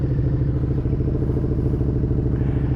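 Suzuki SV650 motorcycle engine idling close by, a steady loud lumpy twin-cylinder throb with mechanical clatter, no talk.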